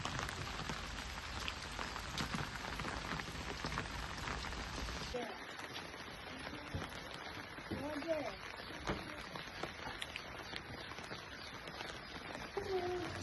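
Steady rain pattering on surfaces outdoors during a monsoon trip around Mudigere, a dense hiss that turns quieter after a few seconds, with faint voices and a bird now and then.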